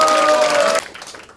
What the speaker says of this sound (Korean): 우리 정한석 동지 큰 박수 한번